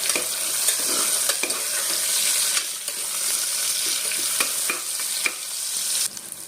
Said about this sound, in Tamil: நல்லா வணக்கி விட்டுக்கலாம் ஃப்ரெண்ட்ஸ்